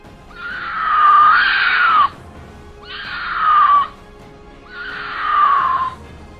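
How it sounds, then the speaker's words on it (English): A mountain lion gives three long, loud, wavering screams, each lasting about a second or more, separated by short pauses, close and unaccompanied by talk. "This is a mountain lion."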